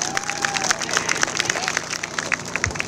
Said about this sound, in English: one more huge round of applause for everyone